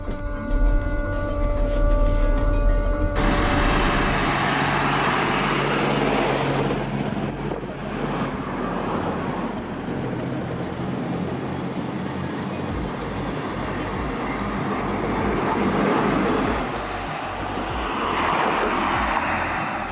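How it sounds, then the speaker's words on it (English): A large diesel engine of a Soviet LAZ-699R bus starts with a loud burst, then settles into a steady, rumbling idle with a continuous hiss and hum underneath as air pressure builds. "We start the engine, wait for the air pressure to build"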